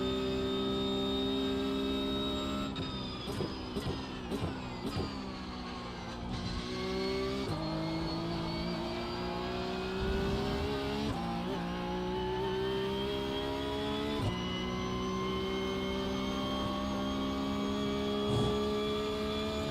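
Porsche Cup race cars in a racing video game roar at sustained high revs, their engine notes rising and dropping through gear shifts, with brief tire skids and cars passing, loud and continuous throughout.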